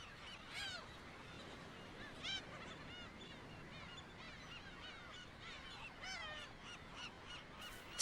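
Black-tailed gulls call from a sea cliff colony, harsh squawking cries scattered throughout over a steady wash of background noise, moderately distant and fairly faint.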